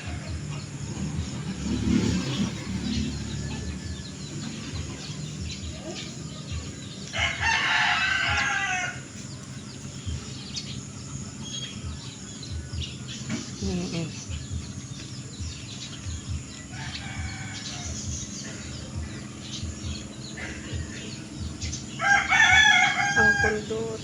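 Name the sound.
chicken, rooster crowing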